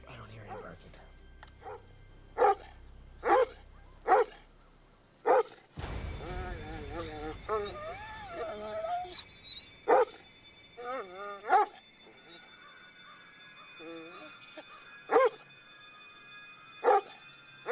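A dog barks repeatedly at night, sharp evenly spaced yips ringing out from a short distance, some distant and faint, continuing under and between conversation and a low rumbling background.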